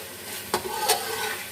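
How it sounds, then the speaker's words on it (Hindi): A spoon stirs salt and crushed red chili into chicken in a pot, two quick scraping strokes against the metal over a soft background hiss. "नमक मिर्च को हम मिक्स कर लेते हैं।"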